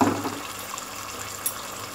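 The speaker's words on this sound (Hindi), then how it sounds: "अब मैं इसमें पानी डाल देती हूँ" Water is poured into a pot of beef kofta curry with potatoes. A brief splash comes first, then fades into a soft, faint trickle close by, with no talking.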